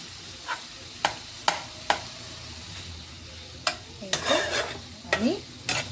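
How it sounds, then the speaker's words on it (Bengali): Shrimp being stirred into a watermelon rind curry in a pan: sharp spoon clicks and scrapes against the metal, spaced irregularly, over a soft background sizzle. "এর মধ্যে চিংড়ি মাছ দিলাম দিয়ে আমাকে ভালো করে এর মধ্যে নাড়াচাড়া করতে হবে।"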